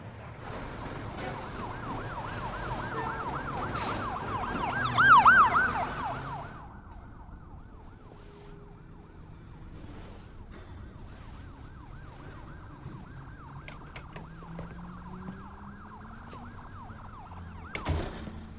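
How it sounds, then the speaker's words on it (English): A wailing emergency siren rises and falls in the distance over steady city traffic rumble, fading after a few seconds into a low street hum. "Sirens. Car horns. It's so fucking noisy!"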